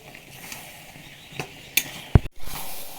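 Jujube pickle with turmeric being stirred in a pan, soft scraping and clinks of a spoon against the metal, with a sharp knock near the end.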